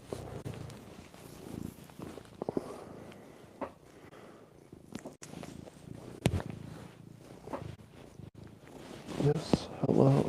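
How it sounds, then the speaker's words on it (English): A cat purring close to the microphone, a steady rumbling purr that runs throughout with small rustles and a few brief bumps, louder toward the end. "this cat needs to say what up"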